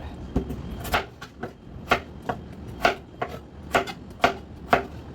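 Knife chopping peeled potatoes into cubes on a cutting board, about a dozen crisp, close knocks in a steady, slightly uneven rhythm, with no talk.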